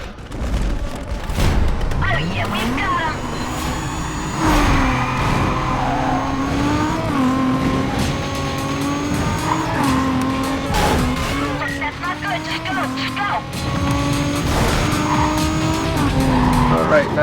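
A Toyota Supra race car in Need for Speed: Carbon (2006), loud revving engine with repeated tire squeals and skids, sustained throughout, with someone talking over the game sound.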